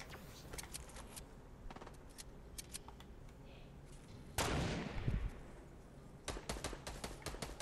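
Gunfire in Fortnite, with many sharp, distant shots crackling in irregular bursts and one louder, nearer blast in the middle, with no talk.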